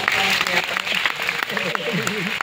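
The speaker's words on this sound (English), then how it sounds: "Can you just give her a warm round of applause?" Warm audience applause for a speaker's mother rises at an event, heard as a bed of clapping while a voice talks over it, with sharper individual claps standing out near the end.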